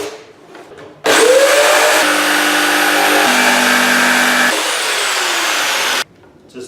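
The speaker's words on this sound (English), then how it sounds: "I can drill a hole for the jigsaw blade and then cut out the circles with a jigsaw" A jigsaw whines loudly and steadily for about five seconds, its pitch shifting slightly as it cuts a circle through wood, then cuts off abruptly.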